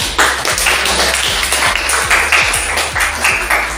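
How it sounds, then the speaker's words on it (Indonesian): A classroom of students applauds a classmate's presentation with dense, steady clapping. It is loud and close and continues throughout without speech. "Sudah bagus ya, kita tepuk tangan ya."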